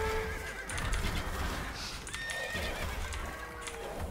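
Horses neighing from mounted horse archers in a video game battle, a loud whinny rising over clip-clop hooves and game sound effects, no talking.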